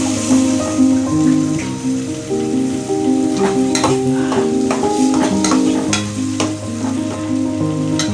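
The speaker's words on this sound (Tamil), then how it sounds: "மல்லித்தூள், மஞ்சத்தூள், தக்காளி, வெங்காயம் எல்லாம் அரைச்சி நல்லா வதக்கணும்" A masala of ground coriander, turmeric, tomato and onion sautés for crab kuzhambu, with steady sizzling and crackling in the pan. Intermittent scraping stir strokes sound close, and background music plays underneath.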